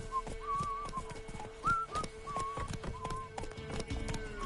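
Horse hooves clip-clopping at a steady trotting rhythm from Roach in the game Witcher 3, close and clear, with occasional whistle-like tones and a constant background hum.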